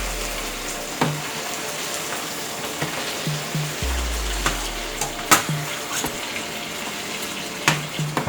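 Chicken pieces for Tuscan chicken browning in a pan, a steady close sizzle with scattered pops and soft clinks of a utensil against the pan.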